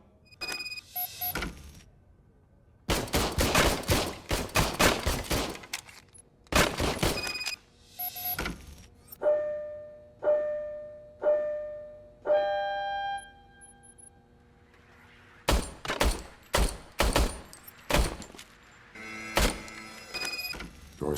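RoboCop's old service pistol fires in the video game RoboCop: Rogue City, sharp loud shots in quick bursts separated by mechanical whirring and clicking as the weapon is handled.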